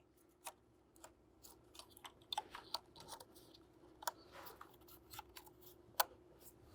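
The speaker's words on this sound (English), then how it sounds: "Now all that's left to do is to reconnect our 4 ignition coils. Listen for that audible click." Ignition coil connectors snapping back onto a Mercedes-Benz C250 (W204) engine during a valve cover gasket job, a scattered series of small sharp clicks and ticks at close range, with no talking.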